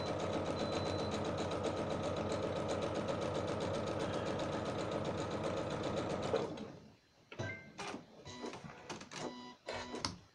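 A sewing machine runs fast top-stitching fabric hanging straps for a toilet roll holder, a loud, even rapid needle chatter that stops abruptly, followed by a few short clicks and handling bursts.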